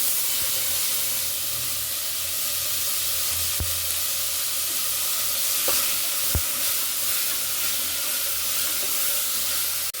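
Tomato goes into a hot pan for cucumber dal sambar, giving a loud, steady sizzle and hiss with a couple of sharp knocks of stirring against the pan.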